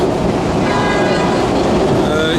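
A train rumbles loudly and steadily over railway lines on a bridge in London, heard from below as a dense continuous roar with faint wheel clatter.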